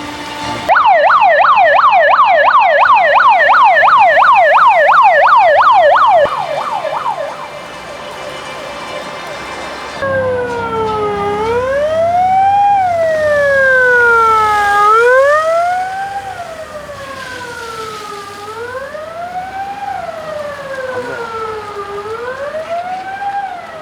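Emergency vehicle sirens sound loud and close during a civil safety drill with fire engines, first a rapid warbling yelp, then a slower rising and falling wail that sweeps repeatedly, with no talking heard.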